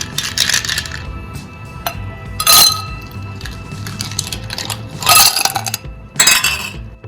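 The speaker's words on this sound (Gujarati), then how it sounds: "એક ગ્લાસ લઈશું તેમાં જે મેં બરફના ટુકડા લીધેલા છે તે એડ કરી દઈશું" Ice cubes dropped into a glass while preparing a chilled raw mango sherbet, giving repeated bright clinks and clatters in several bursts, close and fairly loud over a steady background.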